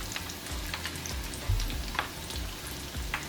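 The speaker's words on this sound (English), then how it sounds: "these are going to take just under 2 minutes to fry" Sardine balls fry in hot oil with a steady close sizzle and crackle, scattered pops and low bubbling throughout, no voices.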